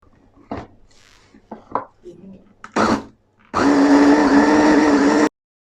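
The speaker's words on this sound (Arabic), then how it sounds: "بنضيفهم كلياتهم بقلب البلندر او محضرة الطعام" An electric blender or food processor grinds a kibbeh spice and bulgur mixture, starting abruptly loud and running steady for under two seconds before cutting off, preceded by kitchen clatter and a voice speaking.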